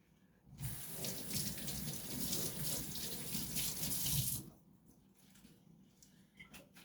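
Running tap water washing a cucumber at a kitchen sink, a steady close rushing splash lasting about four seconds before the flow stops, leaving quiet handling noises.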